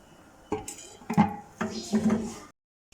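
A metal lid set onto a pot of rice with green coriander being readied to steam, giving a few close clanks and scrapes of metal cookware over about two seconds, then silence.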